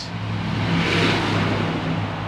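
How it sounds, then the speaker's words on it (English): Cars rush past close by on a busy road in Bridgend, Wales, a steady roar of engines and tires swelling and fading as vehicles go by. "today it's still a busy road, as you can probably hear"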